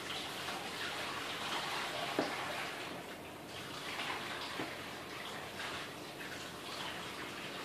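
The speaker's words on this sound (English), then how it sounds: "Hit the plate with your water. And what it's going to do is it's just going to deflect all that water" Water pours steadily onto a plate inside a dirted aquarium tank during filling, a continuous splashing rush with a few brief louder splashes, close and alone without talk.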